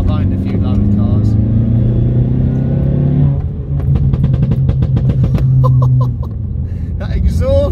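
A modified stage 2 Audi A1 exhaust, heard from inside the car, rumbles loudly and rises into revs, then settles back, while people talk and laugh over it.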